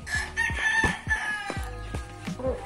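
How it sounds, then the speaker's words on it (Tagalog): Rooster crowing close by in a rural backyard in Alfonso, Cavite, with repeated sharp calls and clucks from several chickens over low background noise. "May manok dito. Grabe."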